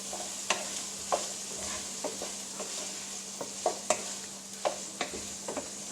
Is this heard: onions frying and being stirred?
yes